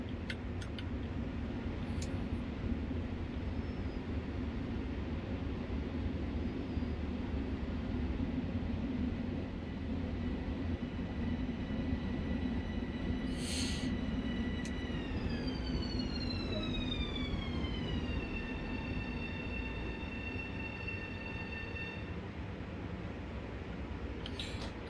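An LIRR M7 commuter train arriving in Train Sim World, a steady low rumble of the approaching train with a whistling horn-like tone that slides downward as it draws near, continuous and fairly loud throughout.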